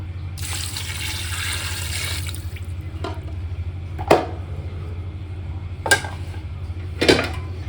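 Water splashes into a cooking pot for a pumpkin mutton curry seasoned with red chilli powder, salt and turmeric. The pour runs for a couple of seconds over a low steady hum, followed by a few sharp metallic clinks.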